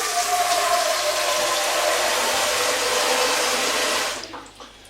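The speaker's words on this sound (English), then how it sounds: "And now we add water to part cover." Water pouring from a tap into a pot of stovies, a Scottish dish, to partly cover it: a steady, loud gushing stream runs for several seconds, then cuts off abruptly.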